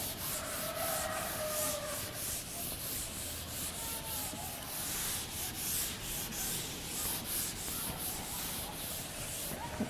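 Chalk or marker writing is rubbed off a classroom board with a steady, scratchy back-and-forth wiping that runs for about ten seconds with no voices.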